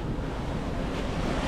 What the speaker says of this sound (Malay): Ada ombak.